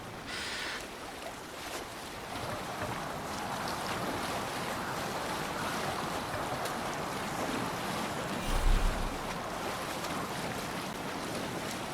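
A Viking longship sails the open sea in Assassin's Creed Valhalla, with a steady broad rush of wind and waves running throughout and a brief low thump of water near the end.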